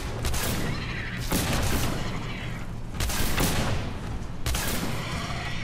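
Gunfire from a gun in the video game Singularity: four loud, booming shots spaced about a second or more apart, each ringing out with a long decaying tail.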